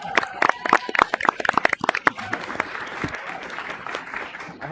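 An audience at a regular school board meeting applauds a presenter. A loud burst of close, dense clapping lasts about two seconds, then thins and fades into a low murmur of the room.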